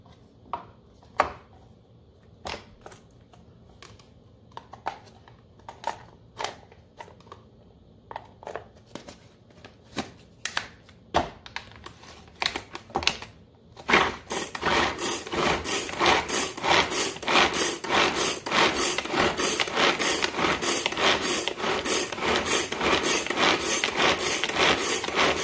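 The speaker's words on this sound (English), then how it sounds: "we're going to go ahead and grind up our onion as well" An onion is ground for Jamaican beef patties. Scattered taps and knocks give way to a loud, continuous mechanical grinding drone that holds steady to the end, with no talking.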